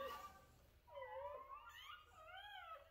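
Newborn puppies give faint, thin whimpers and rising squeaky cries, a few overlapping wavering calls close by in a quiet room.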